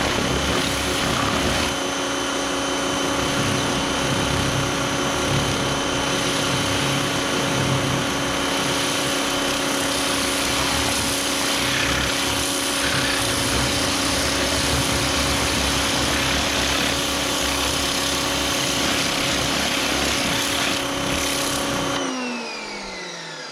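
A Portland pressure washer from Harbor Freight runs with a steady, loud motor drone while spraying a car, holding constant for about twenty seconds before cutting off abruptly at the end.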